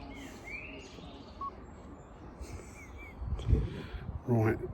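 Birds chirp intermittently in the background at Crowland Abbey, Lincolnshire, with short high calls scattered over a noisy outdoor ambience and a few low knocks near the end.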